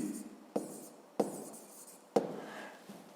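Handwriting during a fifth-grade maths lesson: three sharp tapping strokes, roughly a second apart, with soft scratchy scraping between them, fairly close and quiet, with no voices.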